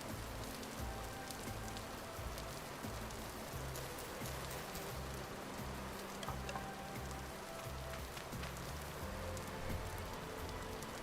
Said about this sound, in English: This area is like non-stop rain.